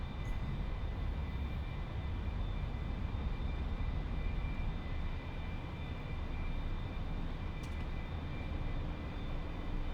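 An A-4 jet rolls down the runway for takeoff at full throttle. It makes a steady, dense engine roar with a constant whine, sustained and unvarying throughout.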